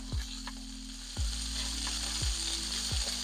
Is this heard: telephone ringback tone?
no